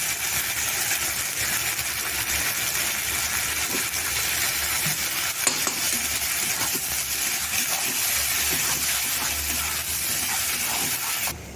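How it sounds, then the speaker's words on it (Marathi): Tomato gravy and masala sizzle loudly in oil in a pan while being sautéed for a Maharashtrian thali, a steady close hiss that continues without a break and with no talk. "छान असं तेल सुटोपर्यंत आपल्याला परतून घ्यायचं संपूर्ण मसाल्यामध्ये घालून घेऊया"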